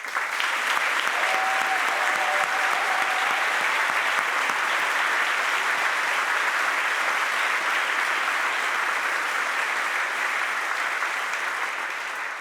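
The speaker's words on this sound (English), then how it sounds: "Please join me in a round of applause for our Air Force." Sustained, dense applause from a large audience at a university ROTC commissioning ceremony, steady and loud for the whole stretch with no speech over it.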